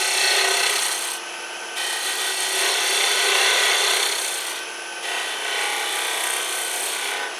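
A skew chisel cuts a wooden spindle on a lathe, giving a continuous close, loud rasping hiss that briefly dips twice as the tool shifts along the spinning wood.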